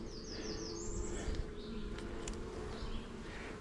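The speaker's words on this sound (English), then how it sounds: "This hive is bustling." Honey bees in a small but bustling hive during an inspection, a steady dense buzzing drone with faint extra chirps and rustles, continuous and fairly quiet throughout.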